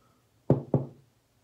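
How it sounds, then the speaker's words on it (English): Two crisp knocks on the small lid of a shaving soap tub, struck close together and heard alone in a quiet room. "Knock on the little lid there."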